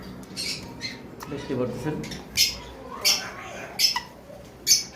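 A cream face red-eye cockatiel gives several sharp, loud squawks in a steady series near the end, close by, while a person talks over the earlier part.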